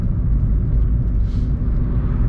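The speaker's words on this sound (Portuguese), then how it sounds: "O carro quase atravessou na minha frente aqui" A car passes on a road, a steady loud engine and tyre rumble running throughout the short moment with a brief swell in the middle, no voices.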